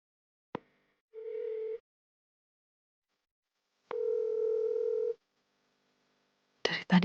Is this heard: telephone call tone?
yes